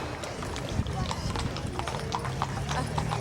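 Belgian horses pulling a two-seated surrey in a Christmas parade in Lawrence, hooves clip-clopping in a steady rhythm on pavement, close and clear, with crowd noise and an announcer talking over them.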